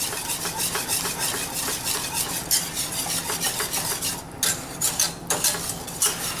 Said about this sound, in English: I'm using a whisk, which I find to be the best for mixing this all together and keeping it going